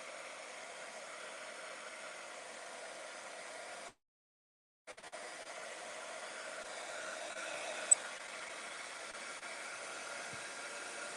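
A heat tool blows steadily to dry ink on shimmery white cardstock, a constant airy hiss that cuts out for about a second and then resumes, close up with no talking.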